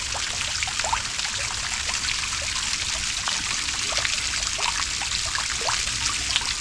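Water splashing and trickling steadily from a homemade garden fountain, a close, continuous bubbling patter with small irregular drips and splashes throughout.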